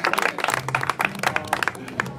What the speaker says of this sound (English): Very hard clap for her, very hard clap.